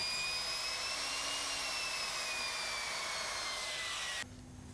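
A joint cutter or milling machine cutting 3.5 millimeter seams open in flooring gives a loud, steady high-pitched whine with a grinding hiss that runs unbroken, then drops abruptly near the end to a lower hum.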